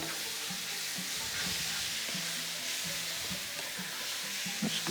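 Sorrel fries in a pan, a steady, close hiss and sizzle with occasional stirring scrapes and soft clicks throughout.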